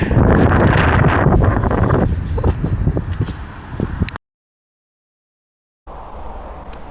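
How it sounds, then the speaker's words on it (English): Wind buffeting the microphone on a Thames riverside walk near the Thames Barrier, a loud roaring rumble for about four seconds that cuts to silence, then returns more softly. "Oh, here comes the wind again."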